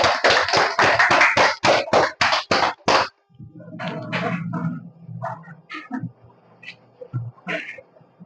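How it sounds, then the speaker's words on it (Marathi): Loud applause at a prize draw for winners of steel stoves, a burst of rhythmic clapping for about three seconds that stops abruptly, followed by murmuring and a few scattered sounds. "जोरदार टाळ्या होत्या"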